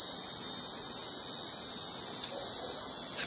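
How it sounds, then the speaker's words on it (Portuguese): Cicadas drone in a steady, high-pitched buzz that holds without a break, fairly loud and even throughout, with no voices over it. "cigarras"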